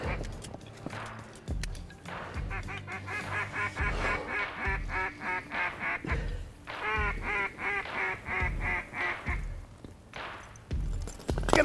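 Ducks at a pothole in the North Country quack and honk in repeated, rhythmic bursts as they fly in, loud and close, with short pauses between runs of calls.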